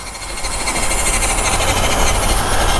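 A Toyota LC80 Land Cruiser engine runs in low gear with a loud, steady, rough drone and rumble, heard from close by.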